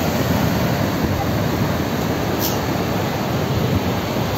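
Huka Falls, the outflow from Lake Taupo in New Zealand, gives a steady, loud roar of rushing white water that holds an even level throughout with no breaks.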